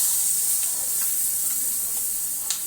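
Onion frying in oil with cinnamon, clove and fennel, a steady bright hiss of sizzling throughout with a few faint stirring clicks, close and even, no talking.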